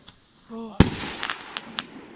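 New Year fireworks give a sharp loud bang followed by several smaller crackling pops, with a brief tonal voice just before it.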